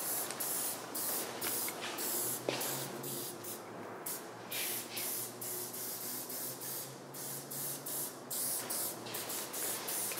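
Aerosol spray paint hisses in long, steady bursts as it is sprayed loosely over a stencil mask laid on a painted color field, with short pauses between passes and a low background hum.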